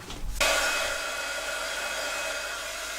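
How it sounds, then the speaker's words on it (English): A heat gun blasts hot air onto strands of craft glue, starting abruptly after a short pause and then holding a steady, close, loud whooshing hiss. "All you need to do is take your hot gun to that"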